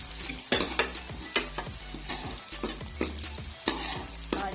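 Chopped green onions fry in a pan for a potato-and-pea curry, with a spatula scraping and stirring in repeated strokes over a steady, moderate sizzle and no talking.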